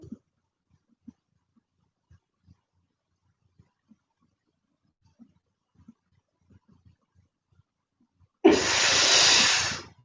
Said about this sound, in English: Slowly ease the air out.